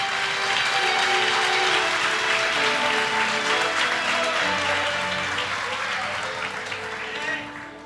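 Church congregation applauding during a sermon, a loud, continuous wash of clapping with tonal voices or music underneath, gradually tapering off near the end.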